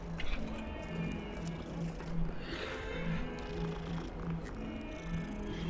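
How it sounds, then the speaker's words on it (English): A petted cat purrs in Hogwarts Legacy, a soft, rhythmic low rumble pulsing in regular breaths beneath game ambience and faint background sounds. "Oh, I can pet the kitty."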